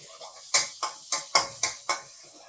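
Chopped garlic with fresh Karen and bird's eye chilies stir-fried in a pan: six evenly spaced, sharp metallic spatula clanks against the pan, close and distinct, each with a short ring and soft sizzle beneath.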